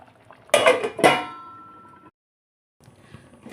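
A metal lid lifts off a pot of simmering mutton curry with two bright clanks close by, a ringing tail that fades out, and then quiet kitchen sounds.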